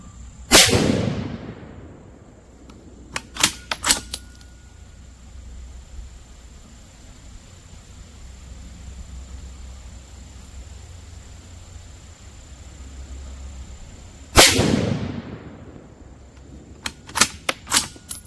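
Two loud, sharp shots from a bolt-action .22-250 rifle firing hunting ammunition, far apart, each followed by a short clatter of bolt cycling clicks.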